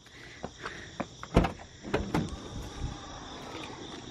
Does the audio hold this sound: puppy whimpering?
no